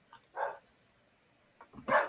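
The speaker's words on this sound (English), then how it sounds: "there's the dog. Found his way into the house." A dog barks indoors in a house, two short, fairly close barks separated by a quiet pause, each preceded by faint small sounds.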